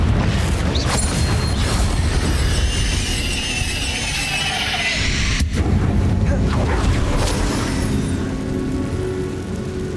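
Confringo fire spell blasting in Hogwarts Legacy, a loud booming explosion with heavy low rumble and crackling debris, layered with game action and effects that continue densely throughout.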